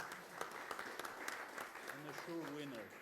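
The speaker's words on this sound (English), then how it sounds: "Give them a round of applause" A demoscene competition audience claps for a 256-byte ZX Spectrum entry, with scattered, fairly faint applause in a hall and a voice talking over it toward the end.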